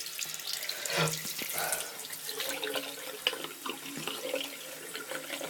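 Water runs steadily from a tap into a sink during washing, a continuous splashing hiss with small drips and bumps, fairly quiet and close.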